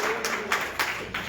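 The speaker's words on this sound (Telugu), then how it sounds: "చప్పట్లు కొట్టండి" Congregation clapping hands at an Easter church service, a few scattered sharp claps spaced unevenly over a faint steady background.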